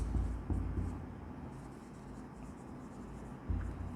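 A pen writes on paper in close, soft scratching strokes with a few light taps, quiet and steady, with no talk.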